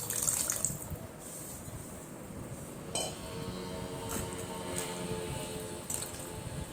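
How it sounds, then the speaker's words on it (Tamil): Tamarind water pours into a pan of frying spices while cooking a dried anchovy (nethili karuvadu) thokku, a splashy watery rush with a few metal clinks, close and steady, no voices. "இப்போ கரைச்சி வச்சுருக்க புளித்தண்ணி ஊற்றிக்கலாம்"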